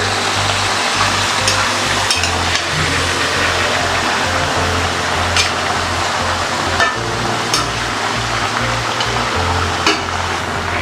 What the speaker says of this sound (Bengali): ভালো করে আমি এখন কষিয়ে নেবো